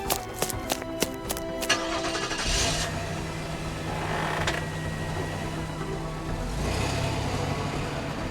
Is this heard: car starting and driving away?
yes